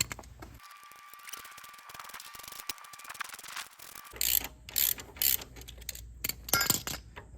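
A Torx 50 bit backs out thread-locked floorboard bolts on a BMW R18 motorcycle, with a steady ratcheting whir followed by louder metallic clinks and clicks in irregular bursts, close up with no talking.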